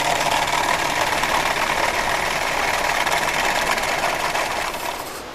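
Toyota Vitz 2013 engine idling with a misfire, a steady, loud mechanical running sound close by that holds unbroken and eases slightly toward the end, with no talk over it.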